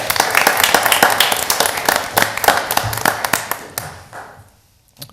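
A short round of applause from a small crowd, scattered sharp claps with a brief brisk burst that thins out and fades after about four seconds, followed by one last clap.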